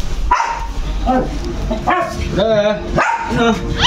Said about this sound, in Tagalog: Kaya pala kaul ng kaul yung aso.